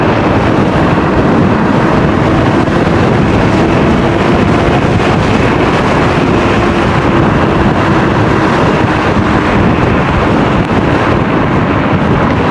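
Strong wind roars steadily into the microphone while riding an electric scooter at night, a loud, continuous buffeting rush with no breaks and no voices.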